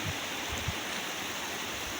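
Ghaghi waterfall at Mainpat in Chhattisgarh pours in a steady, dense broadband rush of falling water, continuous and fairly close, with no voices over it.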